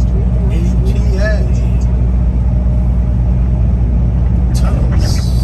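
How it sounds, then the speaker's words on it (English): Steady loud engine rumble and road noise from a car driving through a tunnel, with someone talking over the constant drone. "let's take a ride through some tunnels."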